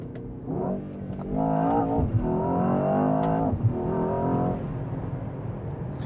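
Mercedes-AMG S 63 E-Performance launching from a race start, its engine note rising in strong, steady harmonic sweeps as it accelerates hard, loud and close, with gear shifts briefly breaking the climb.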